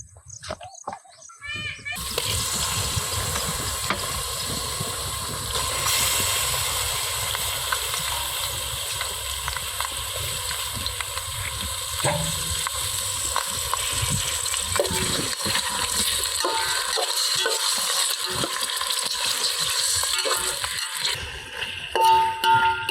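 Chicken drops into hot oil with golden fried onions in a pot for a bachelor biryani and bursts into a loud, dense, continuous sizzle and crackle that holds steady for about twenty seconds.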